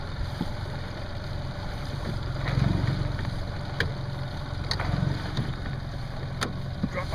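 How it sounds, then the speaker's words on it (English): Boat outboard motor running steadily on a lake, a low constant engine drone with wind buffeting the microphone and a few faint clicks, no talking. "Drop my motor a little more."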